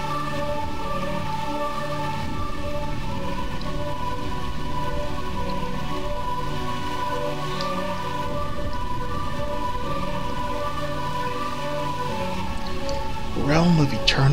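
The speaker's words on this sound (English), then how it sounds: "Realm of eternal rain." Steady rain falls across the scene in Final Fantasy 9, a continuous wash of patter layered with sustained musical tones, with a brief voice near the end.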